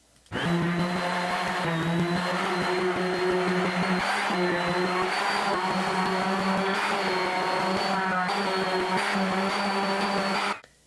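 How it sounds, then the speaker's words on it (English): A DeWalt random orbital sander with 120-grit paper sands paint off wooden faces, giving a steady, close, whirring drone that runs without a break for about ten seconds and then stops. "I've got my DeWalt random orbital sander. I've got some 120 grit put onto it."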